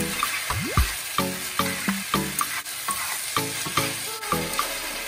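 Beef and rice noodles stir-fried with dark soy sauce in a hot wok, a steady loud sizzle broken by repeated scraping strokes of the spatula in an uneven rhythm, with no voices.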